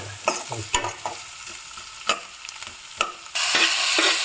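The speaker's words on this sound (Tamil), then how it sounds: "இப்போ இந்த வெங்காயம் இது எல்லாம் வதங்கினதுக்கு அப்புறம் ஒரு தக்காளி போட்டிருக்கேன்" Onions and a tomato sauté in a pan, and a spoon scrapes and stirs in short bursts. A steady sizzle swells louder near the end. No one speaks.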